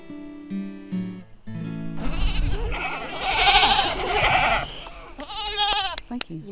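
Goats bleat repeatedly and loudly over a low rumble, with a burst of overlapping animal cries in the middle of the clip.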